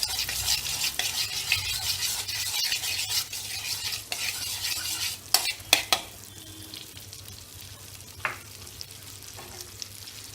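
Butter melts in a pan already hot over a medium flame, with a soft constant sizzle under steady stirring and a few sharper utensil knocks and scrapes against the pan.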